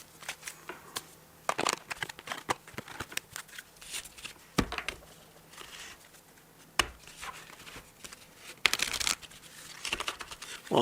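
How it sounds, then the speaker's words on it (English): Oracle cards being shuffled by hand, an irregular flurry of close riffling, slapping and sliding card noises with scattered sharper taps. "All right, we're going to shuffle."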